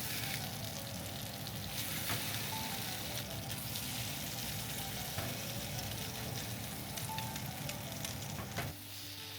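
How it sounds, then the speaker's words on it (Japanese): Koya tofu bread fries in a frying pan with a steady, close, even sizzle that runs unbroken throughout, with faint stirring or shifting sounds underneath. "フライパンの側面に当てるようにして外側も焼いていきましょう。"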